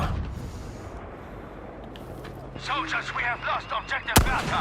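Gunfire in the video game Battlefield V: a rapid burst of repeated shots in the second half, ending in one sharp loud crack, with a faint low rumble of battle underneath.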